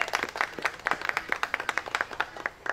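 A small audience at a 4-H poultry show gives a round of applause, a thin crowd of distinct, close claps in an uneven patter lasting a few seconds.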